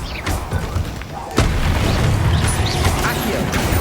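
Protego shield spell in Hogwarts Legacy, with a sudden heavy boom partway through that opens into a sustained, loud rumble, and voices under it.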